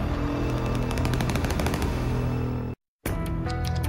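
Loud, rapid automatic gunfire in a Republic of Doyle TV drama scene, a dense burst of repeated shots that cuts out briefly before resuming, with no talking.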